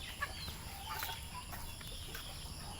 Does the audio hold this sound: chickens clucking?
yes